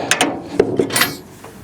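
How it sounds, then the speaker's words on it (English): A hand crank is turned to tilt an aluminum snowmobile trailer, producing a few close, loud ratcheting clicks and mechanical knocks in quick succession over under two seconds, with no speech. "turn this crank,"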